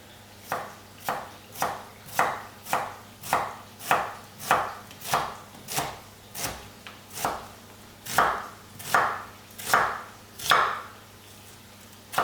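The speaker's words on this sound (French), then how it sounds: "Donc on va couper l'oignon en julienne." Onion julienned with a knife on a board, a long steady run of about twenty crisp chops, close and clear, quickening slightly toward the end.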